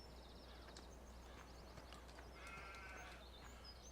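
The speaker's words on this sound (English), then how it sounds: "So there's our sheep." Sheep in the Farming Simulator 17 video game, a few short bleats in a sheep area over a low steady background hum.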